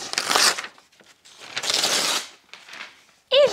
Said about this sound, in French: Je vais déchirer la page qui ne sert plus.